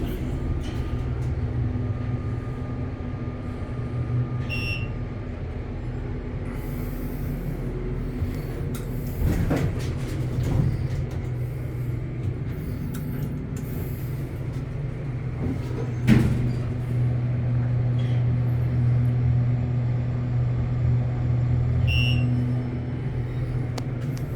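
A vintage, unmodified original Dover hydraulic elevator in a small auxiliary building in Midtown Phoenix runs with a steady low mechanical hum and rumble, with occasional clunks and a brief louder knock partway through.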